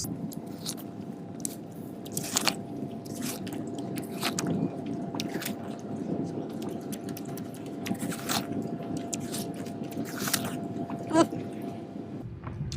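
People in a watermelon eating contest take repeated wet, crunchy bites of juicy melon and chew noisily up close, with squishy slurping sounds in an irregular rhythm.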